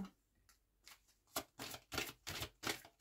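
Tarot cards drawn and handled at close range, giving a series of crisp papery flicks and slides that come in quick, rhythmic bursts, growing busier and louder after a quiet start.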